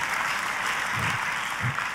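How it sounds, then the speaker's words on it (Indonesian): A church congregation applauds together during a sermon: a steady, dense wash of many hands clapping at once, filling the room evenly with no voices rising above it. "Tepuk tangannya boleh yang paling meriah."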